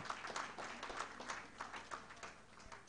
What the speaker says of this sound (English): put your hands together for him and Sagicor one more time